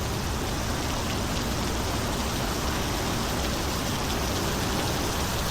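Steady wind and rain just after a thunderstorm at a riverside camp along the Missouri River, a continuous broadband wash of rainfall and gusts that stays loud and even throughout, with no voices.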